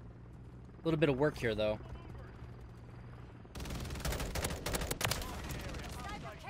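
In Modern Warfare 3 multiplayer, rapid bursts of helicopter gunfire crackle in the latter half, dense and continuous, after someone talks over the game.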